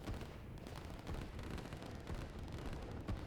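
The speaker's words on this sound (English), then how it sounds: "Nickname's artillery pieces are showing up to help out Nubs." Distant artillery barrages rumble continuously in the real-time strategy game Line War, a dense low booming wash with scattered sharper blasts throughout, no voices over it.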